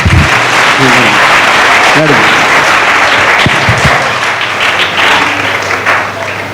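Church congregation clapping during a sermon, loud dense clapping with a voice briefly cutting through at moments.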